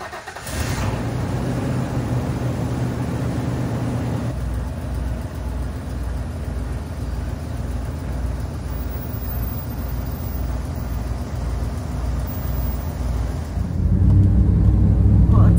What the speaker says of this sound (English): I wanted to take the RV out for a quick drive just to test everything out.